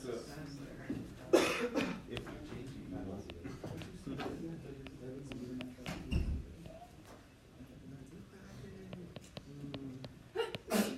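A sneeze bursts out in a classroom during a calculus lesson, sharp and close, amid ongoing speech and other throat noises.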